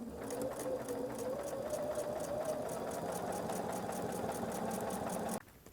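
A sewing machine runs continuously, stitching the border of a fabric square for a drawstring bag with a fast, even mechanical whir that stops abruptly near the end.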